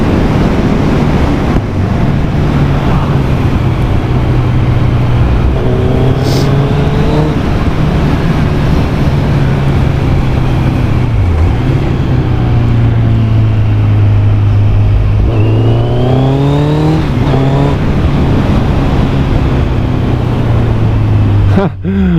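Kawasaki Z1000 motorcycle engine droning steadily and rising in pitch as it accelerates through winding bends, loud wind rush throughout, with a rider talking over it.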